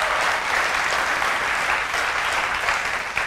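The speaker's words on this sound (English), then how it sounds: "Just provide a round of applause." A church congregation claps loudly in a continuous round of applause during a service, full and even throughout, with no voice over it.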